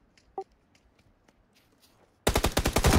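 A Vector submachine gun in PUBG rips into a loud, fast automatic burst after a near-silent lead-in with a few faint ticks and footsteps.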